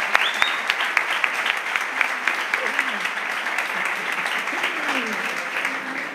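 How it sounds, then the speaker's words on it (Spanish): An audience at a political candidacy presentation claps steadily in a dense, sustained burst. A voice speaks over the applause partway through. "Un aplauso"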